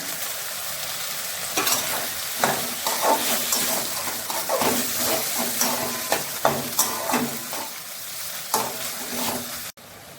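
Chopped tomato sizzling in a pan for palak paneer, with a constant fry hiss broken by repeated scraping and knocking strokes as it is stirred up close, ending in a sharp cutoff.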